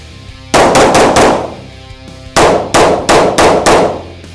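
Handgun shots fired at targets on a range: two loud, close bursts of rapid shots, three then five, each sharp crack ringing out with a metallic clang decay.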